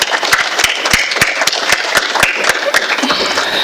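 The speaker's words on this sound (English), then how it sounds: "please give yourselves a round of applause" An audience applauds at a university device launch with loud, continuous clapping and distinct sharp claps standing out at a steady rhythm.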